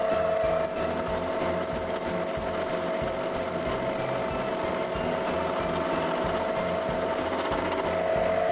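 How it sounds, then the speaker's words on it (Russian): Sandpaper scrubs rust off a steel drill chuck in a steady back-and-forth rasp, close and continuous, with a faint constant whine beneath and no talking. "Наждачком зачищаем ржавчину."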